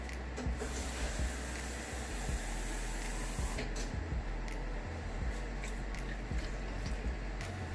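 Water is poured into a pot of simmering pinto beans, a soft continuous splashing and gurgling pour with a few clunks and taps, heard close with no talking.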